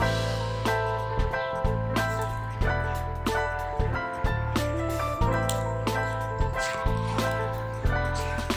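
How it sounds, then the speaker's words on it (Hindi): About two and a half glasses of water go into a pot of Sindhi beef biryani with separated oil, giving wet splashes and squishy sloshes in short repeated bursts, fairly close. "तो अब हम शामिल कर देंगे पानी"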